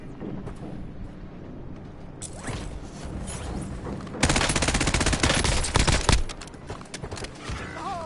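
Automatic gunfire in Call of Duty: Warzone: mechanical clicks and quieter shots at first, then a loud, close, rapid burst of fire for about two seconds before it tapers into scattered shots and game noise.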